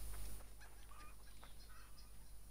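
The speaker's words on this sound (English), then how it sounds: "These chickens, for instance, have their own AI subroutines. They act mostly like chickens." Chickens in the Assassin's Creed Origins video game, soft scattered clucks over a faint steady background hum, quiet and intermittent.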